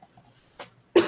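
A single loud, close cough breaks out abruptly after a few faint breaths and small mouth noises.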